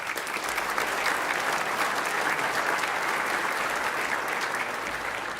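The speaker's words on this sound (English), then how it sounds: "A round of applause for the diversity of culture and immense talent in this room" A large audience applauds at an ethnic business awards gala dinner, with dense, sustained clapping filling the room evenly from start to finish.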